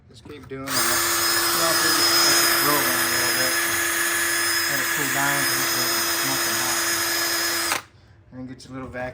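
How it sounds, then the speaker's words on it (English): Power drill bores holes through a VEVOR country-style drop-in sink, a loud steady whine running about seven seconds up close before cutting off, with a brief voice afterward. "Okay, I got them both drilled out."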